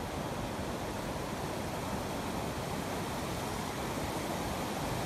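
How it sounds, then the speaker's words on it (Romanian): The Ialomița River rushes through a rocky gorge in the Tătarului Gorges, a constant broadband roar of flowing water, loud and unbroken, with no voices. "Râul Ialomița."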